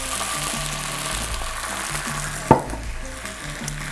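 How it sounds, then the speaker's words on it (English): Wine is poured over onions and garlic already sizzling in a pan for lemon shrimp orzo, bringing a steady frying hiss and one sudden splashy burst midway, close and fairly loud, with no speech. "I'll add 1/2 cup to 3/4 cup of wine."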